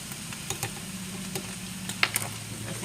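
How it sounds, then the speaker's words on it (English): Hamburger meat frying in a pan is stirred, giving a low, steady sizzle with a few soft scraping clicks from the utensil, quiet and close. "Just a quick stir so we don't burn the hamburger."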